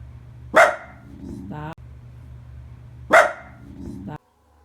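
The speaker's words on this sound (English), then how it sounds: "Her dog didn't growl, he only barks throughout the video." A dog barks twice, each a sharp, loud bark followed by a short whining tail, the two spaced a few seconds apart over a low steady background hum.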